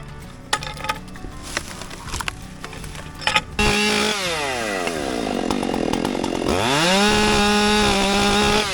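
A chainsaw cuts up dead pine tree logs, starting with irregular idling and knocking. It then roars into loud, sustained revving with the pitch sweeping up and down as the chain bites through the wood.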